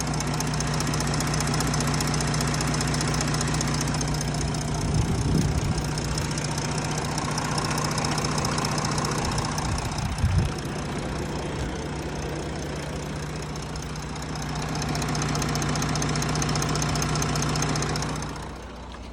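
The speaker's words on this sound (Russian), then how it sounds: "Звук мотора идеальный." An Audi Q7 engine idles steadily at around 500 rpm with the climate control switched off, a constant low mechanical hum with a few brief thumps near the middle and no talking.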